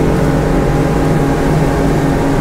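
A Regal 33XO boat with twin 300 HP Yamaha outboards runs at full throttle, giving a loud, steady engine drone with rushing water and wind noise, continuous and close.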